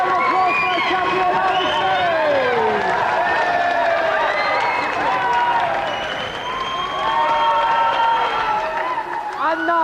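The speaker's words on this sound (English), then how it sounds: "Another round of applause for our champion" A large studio audience on the 1992 TV game show GamesMaster applauds and cheers loudly and steadily, whoops and shouts rising over continuous clapping.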